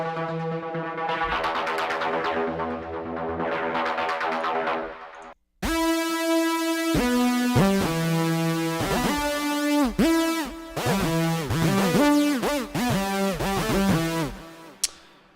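Heavily distorted synth tones from a distortion plugin in FL Studio play alone in bursts, with gritty, buzzing harmonics, a brief cutout midway, then choppy stabbing notes.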